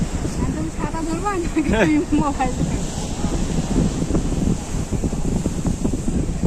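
Strong wind buffets the microphone in gusty rumbles beside open water on a speedboat trip to Sandwip island, while people talk over the blustery noise.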